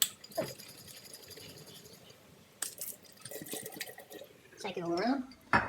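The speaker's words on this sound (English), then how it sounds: "I'll just rinse it off in hot water" Hot water splashes and trickles inside a kombucha bottle being rinsed out, with uneven sloshing bursts and a gurgling fill toward the end, moderately close and fairly quiet.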